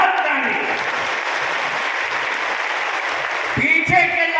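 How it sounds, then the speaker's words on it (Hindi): A large crowd at a political rally claps continuously in a dense, steady wash, with a few louder individual claps and a voice cutting in near the end. "अरे बजाओ ताली,"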